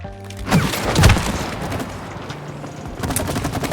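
Gunfire in the co-op video game It Takes Two comes as two loud punchy blasts close together, followed by a rumbling game soundscape and a few lighter hits near the end.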